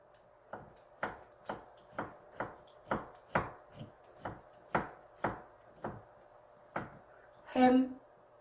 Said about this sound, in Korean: 절반 사이즈로 하셔서 곱게 채치시는 거예요